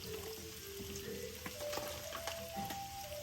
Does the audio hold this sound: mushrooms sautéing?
yes